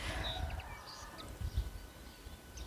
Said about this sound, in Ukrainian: Як гарно пташки співають.